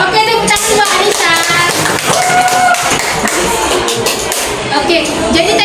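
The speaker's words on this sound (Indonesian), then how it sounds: "tepuk tangan buat Anissa." Classroom applause for a student, a burst of clapping hands under a busy, dense mix of voices and movement throughout.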